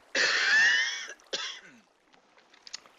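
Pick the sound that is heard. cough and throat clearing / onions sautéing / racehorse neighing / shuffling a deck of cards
cough and throat clearing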